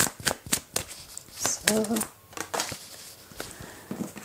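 Tarot cards being shuffled and drawn, with several crisp riffling and flicking bursts spaced through the stretch, close and fairly loud, mixed with a woman's French-speaking voice.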